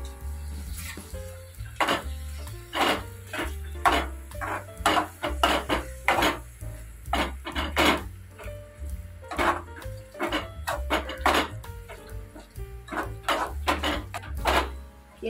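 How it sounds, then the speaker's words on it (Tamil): Cleaned prawns tumbling into a pan of oily masala for prawn thokku and stirred with a utensil: repeated scraping and clinking strokes against the pan, steady and close, with a faint sizzle underneath and no talking. "எறா நல்லா கிளறி விட்டுக்கலாம்"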